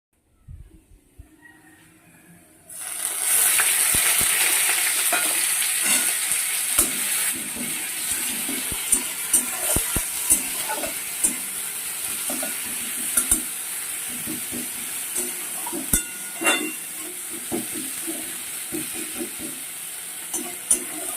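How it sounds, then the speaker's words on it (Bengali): Onions hiss and sizzle in a pan for ghugni after a quiet start, a steady loud frying crackle punctuated by repeated spoon-on-pan scrapes and knocks. "পেঁয়াজটা একটু বেশি ভাজা হয়ে গিয়েছে"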